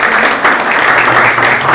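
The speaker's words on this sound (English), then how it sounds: "Ladies and gentlemen, another round of applause for Mr." Audience applause at a discussion forum on separation of powers in Zambia, honoring a guest speaker; dense, even clapping from a sizable crowd, loud and sustained for the whole short stretch without voices.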